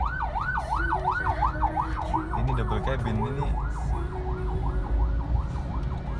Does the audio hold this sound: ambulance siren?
yes